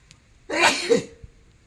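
A single sharp sneeze erupts in one loud burst, then fades into a quiet room with faint background noise.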